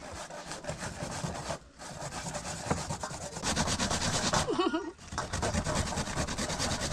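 Sweet potato rubbed on a hand grater outdoors for Jamaican-style pudding, giving a steady rasping scrape with brief pauses, close and fairly loud over a low background.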